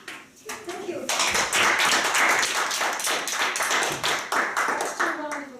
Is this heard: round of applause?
yes